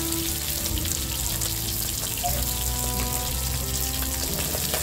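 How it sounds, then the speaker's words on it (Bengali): Pieces of silver carp fish frying in hot oil, a dense, constant crackling sizzle heard close up and fairly loud, with faint tonal hum in the background and no speech. "মাছগুলোকে একদম লাল করে ভেজে নেব।"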